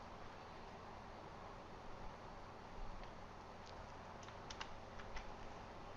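Steady clicking of keys on a computer keyboard as a single short word is typed, quiet and close over a constant hiss of background noise.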